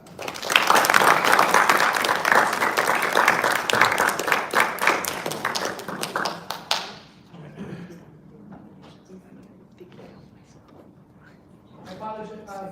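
An audience applauds a doctor after his talk, dense and loud clapping for about six seconds that then dies away into scattered claps and room noise before a voice speaks.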